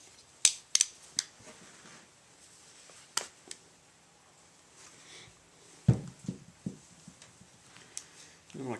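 Scissors or a blade snip through a short length of bank line cord up close: a handful of crisp, dry cuts and clicks scattered over several seconds, quiet and separated by handling noise.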